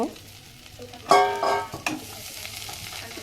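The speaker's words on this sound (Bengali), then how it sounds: "এখন আমি তো সেমাইটা দিয়ে ভাজবো, ভালো করে ভেজে নিব।" Vermicelli frying in oil in a pan, a brief burst of sizzling as it is stirred, then quieter crackling under a low kitchen background.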